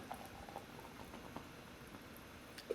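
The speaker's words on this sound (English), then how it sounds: "I quickly pop the top open, pour out the soda," A soda can is opened and the soda poured out, leaving a faint, steady fizzing and crackling of bubbles with tiny pops, heard quietly without talk.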